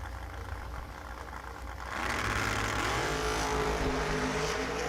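Dragster engine at a drag strip, idling low and rough, then swelling abruptly into a loud, sustained roar with rising revs, heard from nearby.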